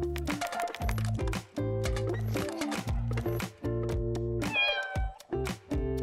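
A cat meows repeatedly, loud and close, over a busy background of toy-like tones and clatter.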